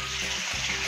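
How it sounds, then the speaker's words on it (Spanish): Meat browning in a hot pan with onion, a dense, steady sizzle and crackle filling the moment, close and loud with no talk over it. "echamos la carne a tostar en dos tanditas"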